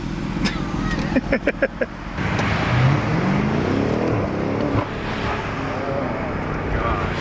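BMW F90 M5 accelerating hard from inside the cabin, a loud engine note rising steadily in pitch through the gears, with people chatting over it.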